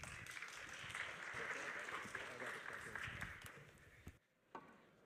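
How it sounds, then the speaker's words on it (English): A conference audience at Pragma Prague applauds, a dense wash of many hands clapping that fades out after about four seconds into near quiet, with a voice present. "So please give Yaniv a big round of applause."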